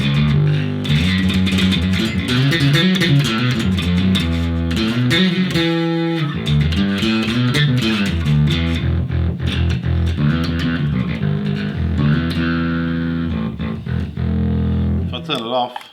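Bass guitar played through a cranked SansAmp Bass DI pedal, a gritty distorted riff with steady plucked notes running loud and continuous, no talking over it.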